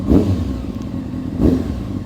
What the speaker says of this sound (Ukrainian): Ловкий вихлоп, чесно.